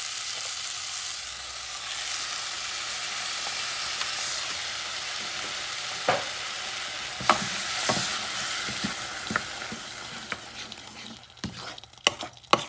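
Chopped tomato hits a hot frying pan for kangaroo chili, giving a steady close sizzle with scattered scraping clicks from stirring that grow sharper and more frequent toward the end.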